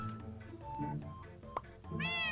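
A cartoon cat in a Minecraft animation meows several times, close and clear, with drawn-out tonal cries, the last one rising and strained, over a busy soundtrack background.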